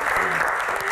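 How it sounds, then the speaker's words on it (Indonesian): Audience applause rings out at a Q&A talk show, loud and close, a brief burst of many hands clapping with faint voices mixed in. "Tepuk tangan dong di sini."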